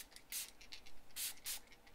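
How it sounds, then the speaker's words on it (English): A shimmer spray bottle with a mixing ball inside gives three short hissing spritzes of fine mist, each burst close and crisp, with quiet pauses between them. "so now this is the shimmer spray"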